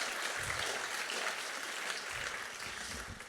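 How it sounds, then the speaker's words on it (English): Sustained audience applause at a Broadway honorees gala, dense and steady clapping from a large crowd that fills the whole stretch with no talk over it. "Let's give another round of applause for Ashley and Linda, who've done a fantastic job."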